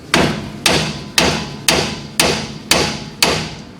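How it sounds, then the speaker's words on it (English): A hammer smacks the drum brake assembly on a 1970 Mustang, seven loud, evenly spaced metallic blows about half a second apart, each ringing briefly before the next. "You just take that hammer and you smack it."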